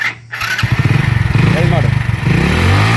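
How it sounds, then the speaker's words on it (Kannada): A motorcycle engine cranks and starts during a battery and charging check, settling into a steady close idle with a brief squeal, while a person talks over it. "ಸ್ಟಾರ್ಟ್ ಮಾಡಪ್ಪ ಗಾಡಿ. ಕೀ ಆನ್ ಮಾಡು."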